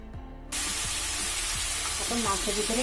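Beef head meat being stirred and fried in a pan, where a sudden loud sizzle bursts in after a brief quiet start and stays steady, with utensil scrapes and faint voice-like tones under the hiss.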